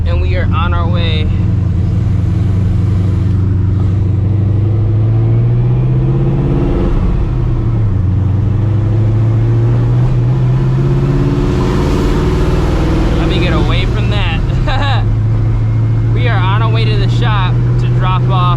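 A cammed, procharged 1999 Ford Mustang GT driving, its loud engine droning and rising in pitch through gear changes, heard close from inside the car with someone talking over it at times.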